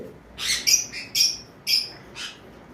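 Albino cockatiels give a run of five or six sharp, high chirps in quick succession, close and fairly loud against quiet background.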